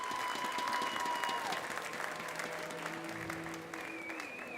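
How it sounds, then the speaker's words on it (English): Crowd applause in a high school gym for the senior Weslaco Lady Panthers basketball players, sustained clapping from many hands with faint tones ringing over it. "So a round of applause for them,"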